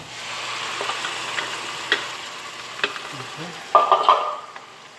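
Garlic and onion fry in a pan for fresh tomato sauce, giving a steady close sizzle with small pops and a louder burst of spattering near the end; a voice says one brief word.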